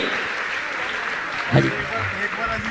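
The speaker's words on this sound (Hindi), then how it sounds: "इन सभी कार्यकर्ताओं के लिए जोरदार जोरदार ताली बजाइए।" A crowd at a Jain religious gathering claps for the volunteers in a brief, steady wash of applause. A voice speaks briefly over the clapping.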